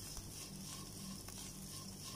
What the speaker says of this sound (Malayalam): അത് നമ്മൾ നല്ലവണ്ണം അതിൽ ഒന്നും കൂടി മിക്സ് ചെയ്ത് കൊടുക്കുന്നുണ്ട്.